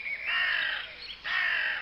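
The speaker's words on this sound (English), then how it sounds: "It was the caw-caw of a crow, and it came from the top of the wall" Two harsh caws from a crow perched atop a garden wall, the first drawn out and the second a short gap later, clear and fairly close in quiet surroundings.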